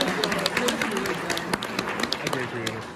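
Audience applause at an optometry conference, a fairly steady clatter of clapping with speech-like sounds mixed in, sharp scattered claps standing out over about three seconds.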